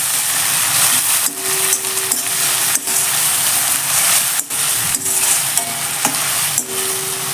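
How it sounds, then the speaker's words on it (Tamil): Onions fry with ginger garlic paste in a pan for mushroom gravy, giving a loud continuous sizzle and hiss, punctuated by repeated scraping stirs and sharp knocks of a spatula against the pan at irregular intervals. "வெங்காயம் நல்லா வதங்கணும் வதங்கினதுக்கப்புறம் இஞ்சி பூண்டு பேஸ்ட்டு சேர்த்துக்கலாம்"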